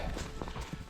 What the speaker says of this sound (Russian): Лошадь идет за мной.